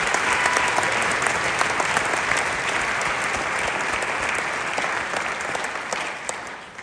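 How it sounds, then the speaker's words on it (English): Strong audience applause after a freshman chamber choir's winter concert piece, a dense, continuous roar of clapping that stays loud and even, then eases slightly toward the end. "Can we give them all a round of applause?"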